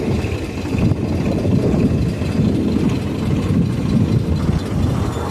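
A tractor engine idles steadily close by on a farm, a continuous low rumble heard from on board with no talk.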